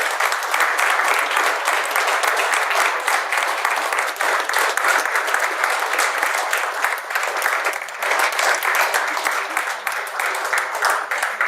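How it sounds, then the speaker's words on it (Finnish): A campaign-opening audience gives the speakers loud, sustained applause, dense clapping that fills the room and carries on without a break for the whole stretch. "Eiköhän anneta puhujille vielä kerran raikuvat aplodit."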